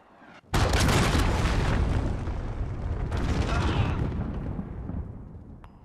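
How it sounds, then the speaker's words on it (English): Cruise missile strikes in Call of Duty: Modern Warfare, a hardcore Domination match, land as a sudden loud blast that rolls into sustained rumbling roar, swelling again midway before fading near the end. "Allied cruise missile on the way"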